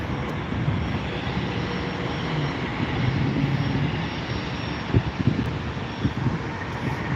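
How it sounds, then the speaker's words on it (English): A United Airlines Airbus A320-200 moving onto the runway produces a steady, moderately distant jet engine rumble that continues throughout, with a few brief low thumps near the end. "Getting onto the runway right now, we have a United Airlines Airbus A320-200"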